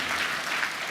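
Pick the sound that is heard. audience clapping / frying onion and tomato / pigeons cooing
audience clapping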